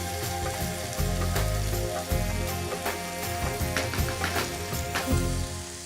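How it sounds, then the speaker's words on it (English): Prawn heads and shells fry with whole spices for a Sri Lankan prawn curry, giving a steady close sizzle and crackle with scattered sharp pops throughout, with no talking. "we'll just allow that to fry away for 15 minutes"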